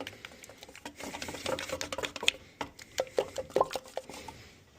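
Custom paint mixed with white pearl and blue is stirred in a container, producing close, irregular light clicks and tapping scrapes that grow busier toward the end.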